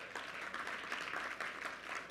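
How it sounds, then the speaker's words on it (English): A room of attendees claps steadily at an opening session, a faint, even wash of applause heard from a distance with no talk over it. "give Emily a round of applause for that"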